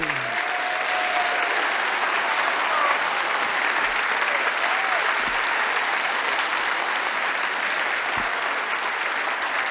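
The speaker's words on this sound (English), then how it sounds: "How about a round of applause for these fine athletes?" A gala crowd applauds cheer squads at a high school football awards banquet, producing a loud, dense and sustained wash of clapping that runs evenly for about ten seconds with no speech over it.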